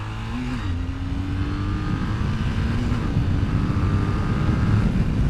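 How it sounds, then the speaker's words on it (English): A Triumph Thruxton motorcycle accelerates hard at full throttle in third gear, its engine droning steadily and rising in pitch with heavy wind rush, recorded close from the rider's position, with no talk. "Full throttle on a Thruxton, third gear."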